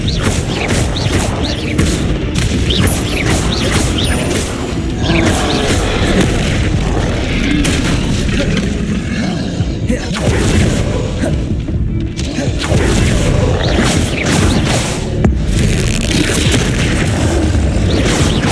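Repeated Expelliarmus spell casts in Hogwarts Legacy land as loud booming, crashing hits with whooshes, part of dense, continuous combat noise that carries on without a break.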